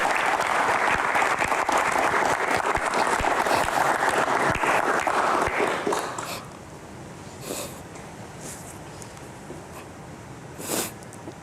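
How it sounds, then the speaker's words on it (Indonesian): Sustained audience applause fills the first six seconds, dense and fairly loud, then drops away to quiet room tone with a few faint stray claps and sniffs. "Tepuk tangan dulu untuk Bapak."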